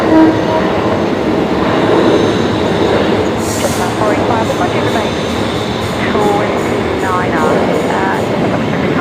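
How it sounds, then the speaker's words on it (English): A train rumbles past at night near Brisbane Airport with steady broadband rolling noise, some faint metallic squeals, and voices talking faintly underneath. "Getting a lot of train sounds"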